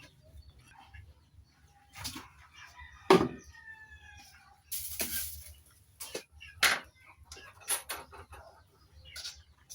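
Pet chickens being fed, with a rooster-like call and scattered clucks and squawks from the flock, moderately close over a low rumbling background.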